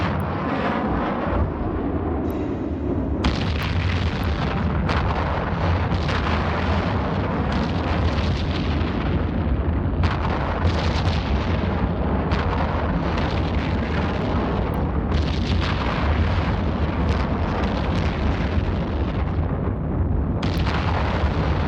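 Dense barrage of missile explosions pounding a ship in EVE Online: continuous heavy booming and rumbling with repeated bursts over about twenty seconds, loud and close, with no voices.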